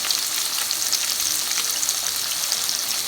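Salmon fillet searing in a hot pan gives a steady, close hiss of frying that runs unbroken and evenly loud throughout, with no voices.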